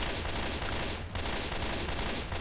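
Mounted turrets in Left 4 Dead 2 pour out sustained automatic gunfire, a dense, unbroken roar of rapid shots that stays loud and close with only a brief dip partway through.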